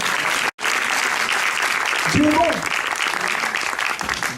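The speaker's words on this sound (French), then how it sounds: "Applaudissez le Saint-Esprit" A church congregation at a French-language service applauds, steady broadband clapping throughout, with a voice speaking over it partway through.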